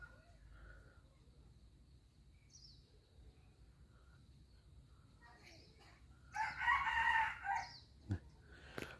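Rooster crowing at a distance, faint at first, then one louder drawn-out crow rising over a quiet outdoor background, followed by a few brief sharp sounds.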